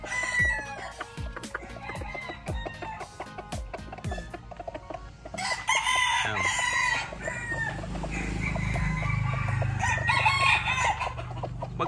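Roosters crow and hens cluck at a chicken farm, several birds calling in repeated bursts at close to mid distance, with busy overlapping crows and steady clucking throughout.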